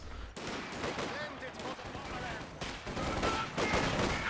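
Machine gun fire and other weapons in the Company of Heroes 2 strategy game, dense overlapping bursts and shots in a busy battle mix over almost the entire span, with a commentator's voice underneath.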